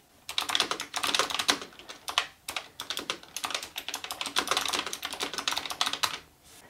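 Keys clatter rapidly on an ASUS ROG Claymore II gaming keyboard as a macro is typed, giving close, crisp bursts of keystrokes in uneven clusters, then a short pause near the end.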